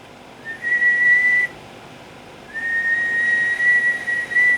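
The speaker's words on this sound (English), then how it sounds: "And whistling about 185 on average." Two sustained, steady whistled tones, each held for about a second or two with a pause between, sounding thin and slightly electronic, whistled into a Palomar Skipper 300 radio microphone.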